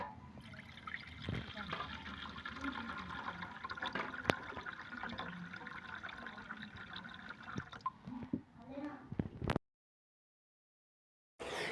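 Water mixed with turmeric, chili powder and spice masala trickles and splashes into a cup for Sri Lankan biryani, faint and close, with a voice talking over it before the sound cuts out.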